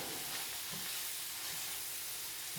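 Flour is stirred into a sizzling pan mixture for a potato hamburger casserole. A soft, even sizzle hisses continuously with faint stirring scrapes, fairly quiet and unbroken.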